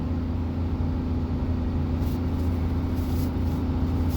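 A 2005 Chevrolet Silverado LS V8 towing about 6,000 pounds up a 7% grade, a loud steady engine drone with a constant low hum held near 5,500 rpm, heard from inside the cab with no talk.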